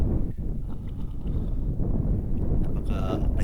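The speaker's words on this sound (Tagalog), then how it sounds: "The place is quiet and it's windy" Steady wind buffets the microphone at a quiet lake in Algonquin National Park during a canoe trip, a continuous low rumble with faint water and rustling textures and no speech.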